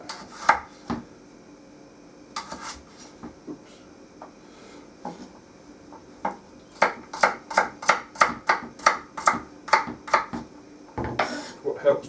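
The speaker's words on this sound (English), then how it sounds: "just top and tail, and I just cut those up" A decent kitchen knife tops, tails and chops root vegetables on a board: a few scattered cuts, then a quick, even run of about ten crisp, close thuds, with a voice talking now and then.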